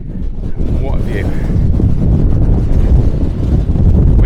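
Strong wind buffets the microphone on the 856-metre summit of Hart Side in the Lake District's Eastern Fells, a loud, steady low roar that continues unbroken from start to finish, with no voices.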